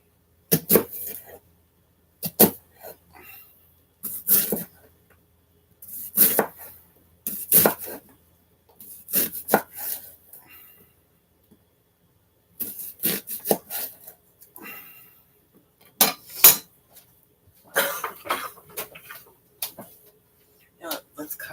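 Garlic is chopped on a wooden cutting board in a home kitchen, in short, sharp bursts of knife strikes separated by brief pauses, close and fairly loud.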